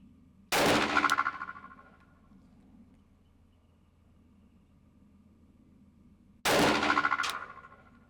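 Two sharp, loud gunshots from a Glock 20 SF 10mm Auto pistol at an outdoor range, several seconds apart, each with a ringing decay and no talk between.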